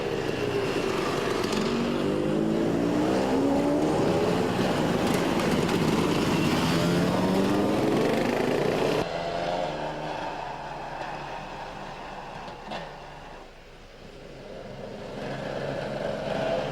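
Enduro motorcycles at a cold, damp dawn race round of the French enduro championship rev and whine loudly, with rising and falling engine pitches that drop to a more distant drone partway through.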